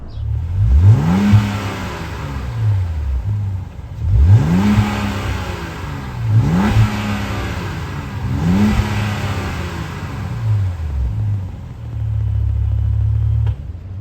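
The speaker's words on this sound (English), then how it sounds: "we can take a listen of how this 3-liter inline-6 sounds" A 2023 Jeep Wagoneer Series III's 3-liter inline-6 engine revs repeatedly, rising and falling in four or five pulls with a deep exhaust burble, then settles into a steady idle rumble.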